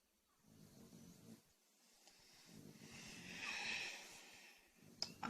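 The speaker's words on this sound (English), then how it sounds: "A snoring dog." A dog snores softly and close by, with slow, rough rhythmic breaths and a few snorting snuffles, in a quiet room.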